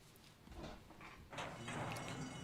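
Horses galloping in a simulated horse racing video game, a faint rolling clatter of hooves that thickens and grows busier in the second half, heard at a distance beneath a low hum.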